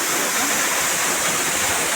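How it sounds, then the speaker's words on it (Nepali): A waterfall pours in a continuous broadband rush, loud and steady from start to finish, with no other sounds breaking through. "पर भित्र झर्ना छ"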